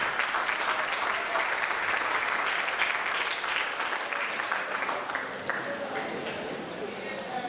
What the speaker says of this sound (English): Please join me in giving a big round of applause for our West Point-Beemer Booster Club.